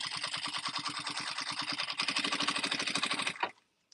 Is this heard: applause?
no